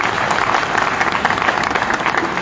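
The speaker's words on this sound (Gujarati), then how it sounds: "એટલે એકવાર જોરદાર તાળીઓ તમારા માટે છે." A large crowd at an outdoor gathering gives strong applause during a motivational speech, loud dense clapping that holds steady without a break.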